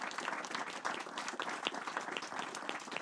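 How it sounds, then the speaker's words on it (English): Warm audience applause at a talk event on oil pollution in Peru, a dense, steady patter of many hands clapping for the full three seconds, moderately distant with no voices over it. "Please give a final warm applause to them for all of their work."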